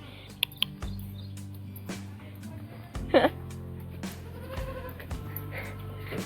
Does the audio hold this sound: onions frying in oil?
no